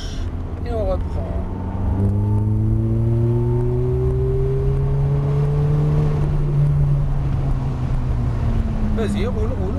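A Ferrari F430 accelerates on a race track during a driving course at Trappes, the engine note climbing steadily through the gear while a driving instructor talks over it from inside the car.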